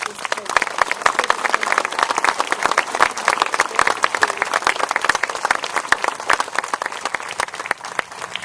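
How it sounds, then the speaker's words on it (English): Crowd at a 9/11 memorial ceremony in a park applauding steadily, dense sustained clapping throughout at moderate distance. "So we would all like to applaud Chief Price and all he has done"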